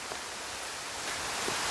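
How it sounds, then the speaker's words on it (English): Rain beginning to fall in woodland on a walk near Laroque des Albères, France, makes a steady, soft broadband hiss that continues evenly throughout, with no voices. "But now it's starting to rain."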